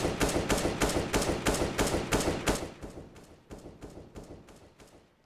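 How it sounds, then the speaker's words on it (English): Rapid automatic gunfire in CS:GO on the Inferno map during a competitive match: a steady, loud burst of evenly spaced shots that turns muffled and fades as if heard through a wall. "if you hear a weapon being fired and there's a wall between you and the weapon, then it will have a different sound"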